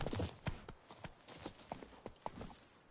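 Horse hooves clip-clop in The Witcher 3 video game as the horse Roach trots along, a steady series of soft, fairly close hoofbeats with no talk over them.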